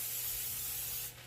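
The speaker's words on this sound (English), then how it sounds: "So I'm going to spray my grill." Cooking spray hisses onto a preheating grill in one short steady burst that tapers off, close and alone with no talking.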